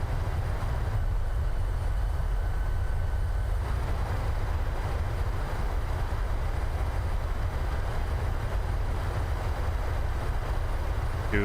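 Thrust reversers roar on an airliner rolling out after landing in Microsoft Flight Simulator, a steady, loud, broadband engine rush that holds evenly throughout with no pauses.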